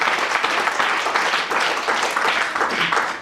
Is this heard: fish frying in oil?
no